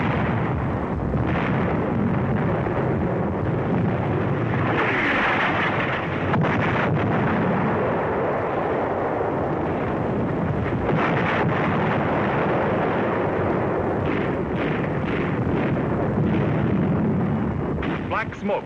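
Shell explosion from a direct hit on an enemy 88mm gun position at the front in North Africa, heard as a sustained, loud, wind-buffeted roar of blast and rumble over about nineteen seconds of old wartime field recording.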